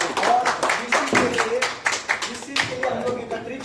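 A crowd at a crypto investing seminar claps for the speaker, loose uneven handclaps rising and falling in bursts, with a voice talking over them.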